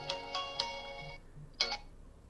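An incoming-call ringtone sounds from a Black Shark GS3 smartwatch as a few bright, quick tonal pulses followed by a pause and one more chime, close and clear.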